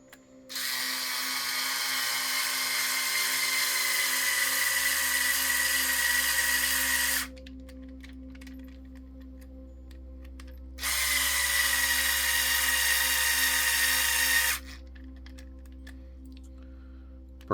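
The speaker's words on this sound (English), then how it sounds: "Just using the driver because I'm lazy." Cordless power driver running bolts into a portal wide front axle assembly: two sustained high-pitched whirring bursts of several seconds each, separated by a pause, loud and close, with a low background hum and no talk.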